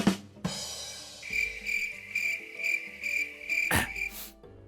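A cricket sound effect chirps in a steady pulsing rhythm, with clear repeated chirps over a low tonal background and a couple of sharp knocks at the start and near the end.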